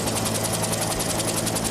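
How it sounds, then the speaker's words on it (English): A helicopter's turbine engine drives its spinning rotor blades, producing a loud, continuous whine with a fast, rhythmic blade chop all the way through and no talk. "the engine, which is a turbine engine. It's a jet engine."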